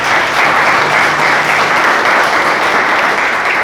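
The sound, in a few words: church congregation applause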